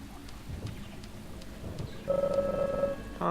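Rain and thunder in the video game Deadly Premonition: a steady wash of rainfall with low rumbling underneath, then a sustained electronic tone rises over the storm near the end.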